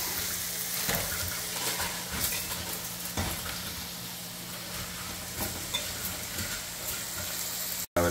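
Instant noodles and ground masala tipped into boiling water in a home kitchen pot: quiet, steady bubbling with scattered light taps and scrapes, ending in a brief abrupt cut.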